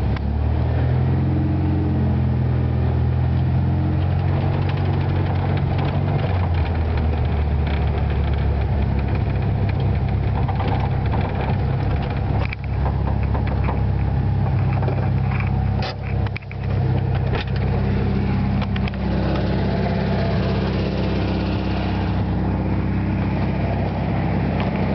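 A 1973 Volkswagen Super Beetle engine idles after a cold start, before carburetor adjustment, a continuous loud low rumble with an uneven, slightly lumpy beat throughout.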